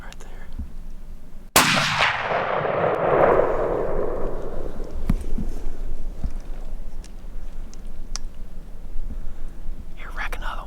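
A single loud rifle shot cracks out during a whitetail deer hunt among Christmas trees, then a long rolling echo fades away under quiet whispered voices and outdoor ambience.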